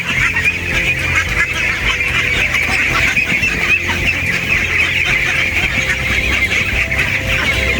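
A large flock of ducks at a riverside duck farm keeps up a dense, continuous chorus of quacks and honks, loud and close, with no voices over it.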